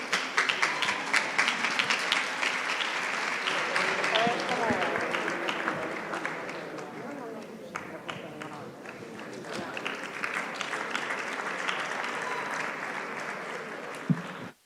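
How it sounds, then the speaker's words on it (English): An audience at a startup summit stage awards ceremony in Valencia breaks into sustained applause, many hands clapping steadily for over ten seconds before tapering off at the end. "Please, a big applause."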